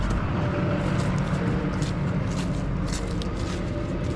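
A pickup truck drives slowly while turning tightly near a trailer, with a steady engine rumble and road noise close by and no talk.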